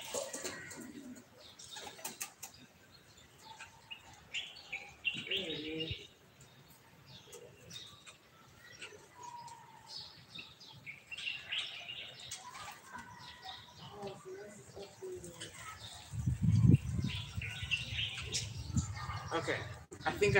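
A black bird calls and flaps its wings somewhere nearby, with soft cooing notes and fluttering bursts scattered through faint background noise and a louder low rumble near the end.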